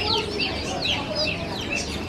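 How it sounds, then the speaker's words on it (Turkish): Chickens kept in the open at a poultry market in Tabriz, Iran, cluck and squawk repeatedly, close and fairly loud, over busy market background noise. "Tavukları açıkta tutuyorlar abi."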